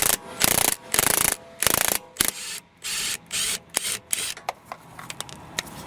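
An impact gun works the parking brake bracket bolts on a 2002-2006 Acura RSX during a rear brake job, giving several loud close bursts of rattling hammering, then shorter spins and a few faint clicks.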